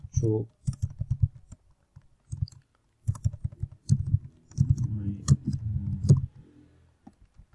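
Keys on a computer keyboard are tapped in short clusters while a phrase is typed, the clicks mixed with someone speaking French over much of the passage.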